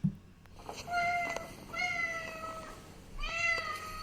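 A pet cat meows several times in a house, drawn-out plaintive cries spaced across a few seconds, close and clear over quiet room noise.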